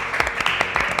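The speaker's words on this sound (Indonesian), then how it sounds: "Kita kasih tepuk tangan dulu untuk Evelyn" A brief round of clapping for Evelyn during an online church service game, a second of quick, close claps in uneven rhythm over a steady background hum.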